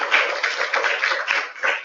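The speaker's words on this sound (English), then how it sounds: "I want to give a big round of applause for Jess and Michael." A crowd applauding at a training event, dense overlapping claps forming a steady, loud wash of sound throughout.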